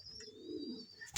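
Racing pigeon cooing close by, a low soft murmuring coo rising and falling for about a second, with a faint high tone in the background and a sharp noise at the end.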